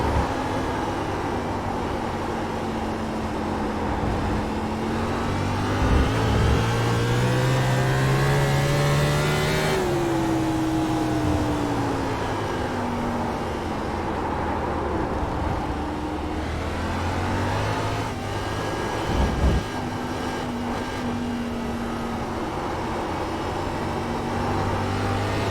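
Race car engine in the iRacing sim on the Charlotte Roval, held loud and steady at high revs and climbing in pitch between gearshifts, with no voices over it.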